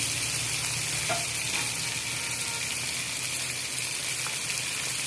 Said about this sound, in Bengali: একটু রসুন আদা একসঙ্গে দিয়ে দিচ্ছি।